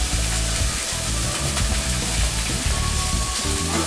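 Food crisping in a pan on a kitchen stove, left alone to cook: a steady, loud sizzle and spatter that runs continuously without pause, with faint kitchen clatter underneath.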